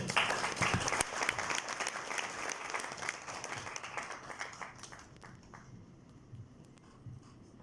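Audience applause welcomes a speaker to the podium at a digital transformation talk, loud and dense at first, then thinning and fading over several seconds, with scattered claps lingering near the end.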